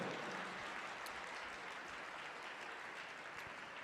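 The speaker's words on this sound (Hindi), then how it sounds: "ताली बजाकर तारीफ करो मेरे परमेश्वर की जोर से।" A church congregation claps in praise during a Hindi-language worship service, a dense, steady wash of many hands that holds level throughout, with no voices over it.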